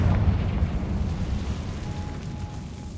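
A low, rumbling fire-spell explosion in the video game Hogwarts Legacy, a heavy boom at the start that settles into a rolling roar and slowly fades over a few seconds.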